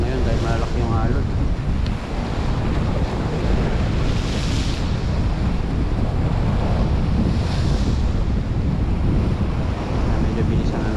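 Large ocean waves crash and surge on a rocky shore in a continuous roar, close and loud, with heavy wind buffeting the microphone and a couple of stronger breaking swells.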